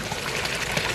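A small waterfall spills into a gravel bog beside a koi pond, making a steady, close trickling splash with no pauses.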